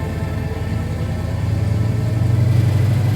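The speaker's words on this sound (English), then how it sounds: "this is my Fast and Furious Charger" Deep, steady engine rumble from the 1970 Dodge Charger built for Fast and Furious, idling close by and swelling a little louder toward the end, with no talk over it.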